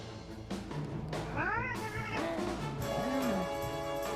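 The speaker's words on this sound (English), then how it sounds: "Let's kill this cat." A cat enemy in the Dragon Quest XI video game meows several times, drawn-out rising and falling cries over game music and effects, fairly loud and close.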